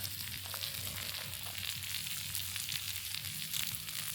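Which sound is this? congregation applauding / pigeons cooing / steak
steak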